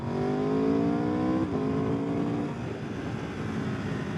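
An Aprilia RSV4 Factory motorcycle engine pulls hard, its rising whine climbing steadily before a brief shift dip and a continued loud drone with wind rush, close and alone without talk.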